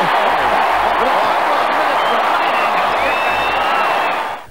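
A large Australian football crowd roars and cheers continuously at a stadium, loud and sustained with a few whistles over the din before it starts to fade at the end.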